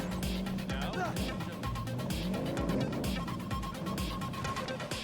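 A car in the video game Cyberpunk 2077 drives up with a busy engine roar and tire noise, mixed under game music and effects, steady and fairly loud throughout.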